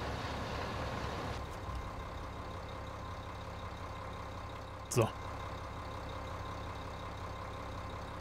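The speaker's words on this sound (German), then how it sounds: "Ja, habe ich sogar den Motor noch angelassen" A tractor engine idles in Landwirtschafts-Simulator 15 as a low, steady rumble, with a brief voice near the start and a short click-like burst midway.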